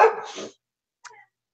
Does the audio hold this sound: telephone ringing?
no